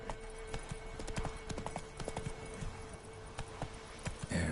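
Clip-clop hoofbeats of the horse Roach trotting in The Witcher 3 on PS5, a steady rhythmic series of close, distinct hoof strikes over a constant ambient game background, with no talking.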